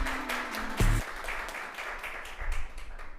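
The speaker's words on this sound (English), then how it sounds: "I want to begin by extending a strong round of applause to both teams on a job well done." A round of applause for two closely matched competing teams, a fairly faint, dense patter of clapping that carries on steadily after a brief low thump near the start.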